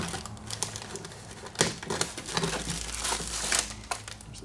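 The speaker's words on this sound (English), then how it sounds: "let's start cutting tape and see what happens" Tape being cut and pulled on a cardboard box holding a model airplane kit, giving crinkling, tearing and rustling bursts of cardboard and plastic handling close by.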